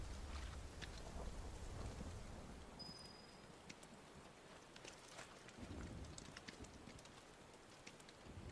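Rain falls steadily in Final Fantasy VII Rebirth, a soft, even patter with low rumbles of thunder beneath, faint and distant with no talking.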